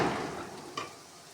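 Curry leaf and rice paste frying in a pan gives a faint, close sizzle with a brief stir or scrape partway through and no talk.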